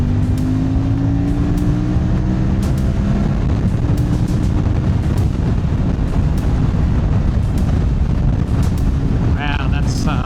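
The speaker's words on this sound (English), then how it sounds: "Sorry about the wind. That's very blustery," Strong, blustery wind buffets the microphone while riding a CFMOTO 450MT motorcycle in fourth gear at about 70, the engine's steady drone underneath and a brief whine near the end.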